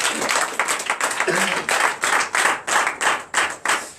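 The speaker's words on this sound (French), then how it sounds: "Donnez de vives acclamations au Seigneur" Congregation clapping in church during a night deliverance and prophecy service, steady rhythmic hand claps in a regular beat, close and lively.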